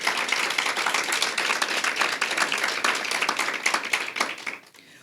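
An audience at a mayoral and school district workforce forum breaks into steady, dense applause that holds for several seconds and then quickly tapers off.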